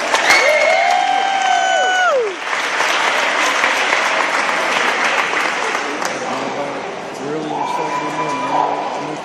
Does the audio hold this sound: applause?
yes